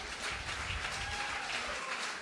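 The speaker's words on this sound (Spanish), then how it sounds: "¿Cuánto le dan un aplauso a Dios?" A church congregation applauds in a steady, even wash of clapping that continues without a break, moderately loud and slightly distant.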